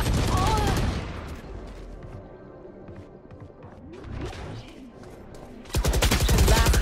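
Gunfire in the shooter game Valorant: a loud burst at the start, a quieter stretch with mixed game sounds and voices, then another heavy burst of shots near the end.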